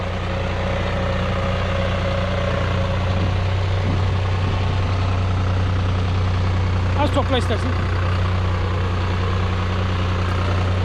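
A heavy diesel engine of a 55-horsepower New Holland T580B tractor pulling in reverse gear rumbles steadily with a low, constant drone, with someone speaking briefly over it partway through.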